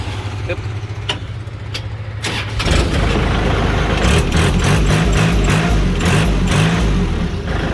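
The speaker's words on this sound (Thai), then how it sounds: "ฟังเสียงเครื่องยนต์นะครับ" A used two-wheel walking tractor engine catches after a few seconds of quiet clicks, then runs loud and close with a steady, rough chugging drone that continues to the end.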